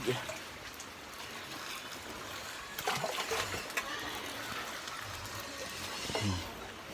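Water poured into a bucket of salted pig feed, a continuous close splashing trickle over rain in the background, with brief swells in the pour.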